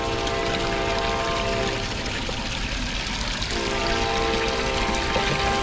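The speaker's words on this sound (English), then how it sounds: "There seems to be a train near me." A train rumbles past nearby in a city, a continuous loud broadband roar with steady mechanical hum and drone that fills the scene without letup and drowns out everything else.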